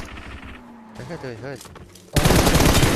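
Gunfire in the mobile battle-royale game PUBG Mobile breaks out in a loud, dense burst near the end, preceded by quieter game ambience and a speaking voice.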